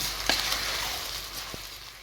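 Bulgur being stirred into a pan of fried carrots, onion and garlic, a steady soft sizzle with a couple of brief scraping knocks from the spoon, close and with no talking.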